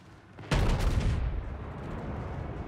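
A single sudden heavy boom of naval gunfire in the video game World of Warships, close and loud, followed by a long rumbling roll that fades slowly.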